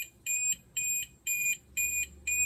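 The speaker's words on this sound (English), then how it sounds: "that's the alarm going off" The alarm of a 1995 Prevost coach beeping in a steady repeating pattern, five shrill bursts with short gaps, loud and close.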